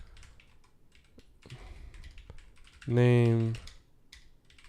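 Computer keyboard keys click in quick, uneven bursts while someone codes a web app, with speech running over the typing and one louder spoken word in the middle.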